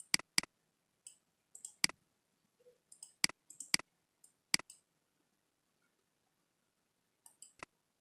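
A computer mouse clicks quietly and crisply several times, some in quick pairs, with short silences between.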